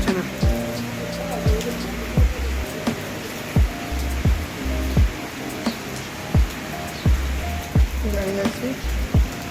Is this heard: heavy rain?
yes